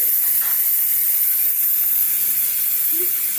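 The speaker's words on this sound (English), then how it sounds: "the timer just went off, so we're gonna release the steam" A steady, broad hiss of steam venting from a cooker, continuous and fairly loud throughout, with faint clicks and a brief higher tone near the end.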